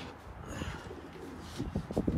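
Young tippler pigeons coo softly inside their loft kit, a few low throaty coos building near the end, close by and without any talk.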